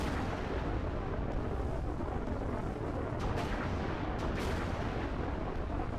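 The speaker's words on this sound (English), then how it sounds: "these are some really powerful cannons" Powerful ship cannons fire during a space battle in Halo Reach, a dense, continuous barrage of booming rumble with a few sharper blasts standing out, loud and unbroken, with no talking.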